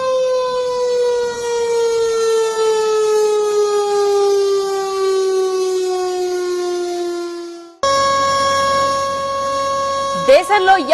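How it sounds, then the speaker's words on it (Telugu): A civil defense war siren wails in a long, slowly falling tone, loud and sustained, then cuts to a second siren holding a steady high pitch, with some rough noise near the end. "దేశంలో 54 ఏళ్ల తరువాత యుద్ధ సైరన్ మోగుతోన్న సమయం ఇది."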